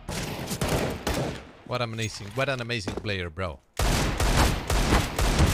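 Rapid gunfire bursts from the video game Counter-Strike crackle loudly at the start and again near the end, with someone talking over a pause in the middle.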